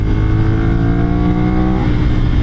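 A Ducati Monster 796 motorcycle engine pulls hard under acceleration, its loud, continuous rising engine note close up with rolling low-end rumble throughout.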